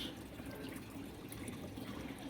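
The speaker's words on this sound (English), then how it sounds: "there is a water flowing inside" Steady trickle of water flowing through a pipe of an NFT hydroponic system, close and fairly quiet, continuous with no talking.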